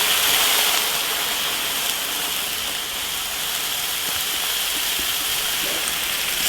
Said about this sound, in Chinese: 倒瓶啤酒，